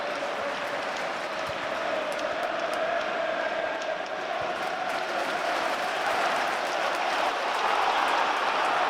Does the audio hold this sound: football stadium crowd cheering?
yes